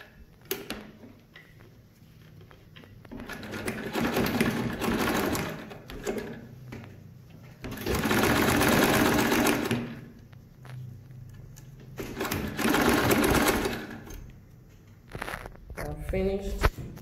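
Sewing machine top stitching a zipper fly on a garment, running in three loud sustained bursts separated by pauses filled with fabric handling and quiet clicks, with a brief quick stitching run near the end.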